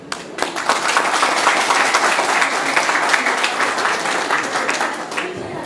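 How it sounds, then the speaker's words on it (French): Loud, sustained applause from an audience at an award ceremony, dense clapping that holds steady throughout, with some voices mixed in. "Je voudrais qu'on acclame très fort."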